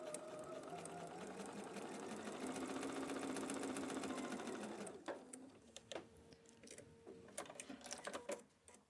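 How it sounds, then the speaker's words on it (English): Sewing machine stitching quilt fabric for foundation paper piecing, running in a steady close whir for about five seconds and then stopping, followed by light clicks and handling noises. "So let's go ahead and sew a few stitches prior."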